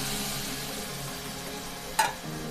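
Boiled moth beans tossed into a pan of spiced masala for Maharashtrian usal, a soft continuous sizzle and stirring with a single sharp metallic clink near the end.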